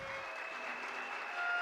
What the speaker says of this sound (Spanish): Les brindamos a todos un merecido aplauso